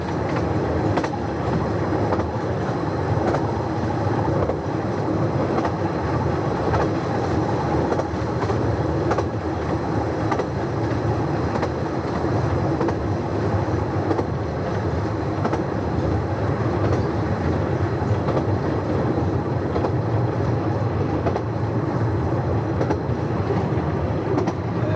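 A train on the Ravenglass and Eskdale Railway in the Lake District rumbles steadily along a straight section, a continuous loud roar with faint rhythmic clatter throughout, heard from on board.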